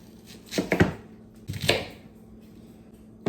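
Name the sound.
knife roughly chopping a large yellow onion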